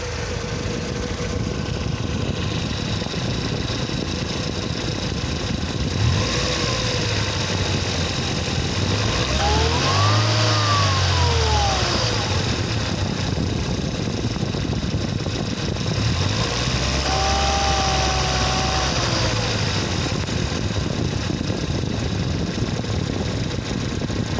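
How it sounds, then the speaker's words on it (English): Mercedes 230 Kompressor engine running steadily at idle while its supercharger engages and disengages, bringing a rising whine and a deeper note twice over about 24 seconds, recorded close with no talk. "I'm just going to try and show the supercharger engaging and disengaging as it should"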